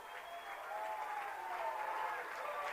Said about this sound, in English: the Lehi crowd explodes as they start to feel some momentum building